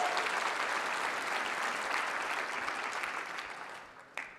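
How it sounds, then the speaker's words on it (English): Dense, steady applause from a hotel ballroom full of people at a space station research and development conference, loud and sustained before tapering off near the end. "hopefully you can hear some of that applause"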